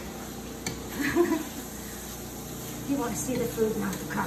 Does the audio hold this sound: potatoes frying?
yes